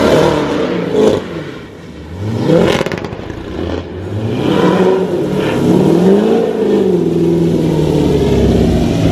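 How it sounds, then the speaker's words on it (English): A Corvette Z06 fitted with long tube headers and an AWE black diamond exhaust revs hard on a cold start, loud and close, with rising and falling engine sweeps echoing off a nearby wall. "First cold start after the long tube header and black diamond exhaust from AWE."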